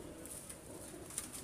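Champion racing pigeons cooing softly over a steady outdoor background hiss, with faint high chirps and no speech.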